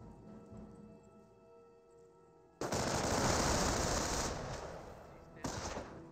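Company of Heroes skirmish gunfire: after a quiet stretch, a sudden loud sustained burst of machine-gun fire erupts, fades slightly, then another burst hits near the end.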